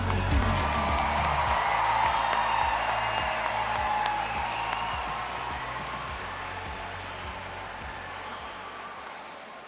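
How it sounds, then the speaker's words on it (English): A large tournament audience applauds the competitors at a national science competition opening ceremony, a steady, broad wash of clapping with scattered whoops that slowly fades over about ten seconds. "let's give all the competitors one last big round of applause."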